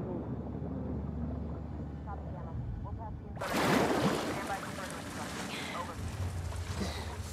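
A boat engine in the video game The Last of Us Part II starts up and churns over water, rising into a loud rushing wash with wind noise, and voices talk alongside it.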